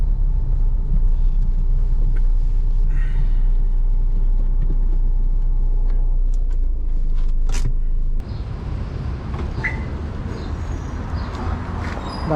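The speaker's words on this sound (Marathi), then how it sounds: "आपण गाडी पुढं लावूयात आणि मग आपण चहा घेऊ।" A car's engine rumbles low and steady from inside the cabin while driving slowly on a road between Dhule and Malegaon, easing off as it pulls up to park near a tea stall, with faint outside sounds.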